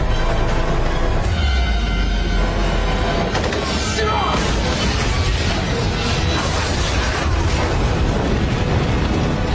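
A bomb explodes at sea in a film scene: a heavy, deep boom swells into a sustained, loud roar of churning water and debris that continues without letup.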